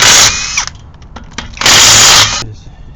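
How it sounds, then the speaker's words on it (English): Power tool on an 18mm socket spinning lug nuts off the wheel of a Mk5 VW GTI, two loud close whirring bursts separated by brief clanks and handling noise. "Take the lugs out."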